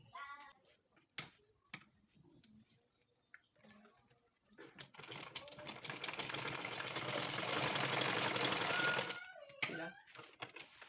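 A sewing machine stitches the side of a handmade cap with a rose, running as a steady, fairly loud mechanical whir for about four seconds after scattered handling clicks and rustles, then stopping with a few taps.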